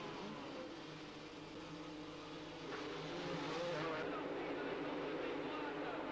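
Several 250cc supercross motorcycles revving and idling on the starting grid at a 1990 French championship round in Tours, a dense continuous engine drone with rising throttle blips, loud and close, with crowd and commentary mixed in.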